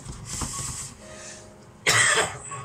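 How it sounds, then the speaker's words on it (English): A single cough from a man cooking a chicken, ham and mushroom pie, a short harsh burst near the end after quieter throat sounds. "bit of a cough there"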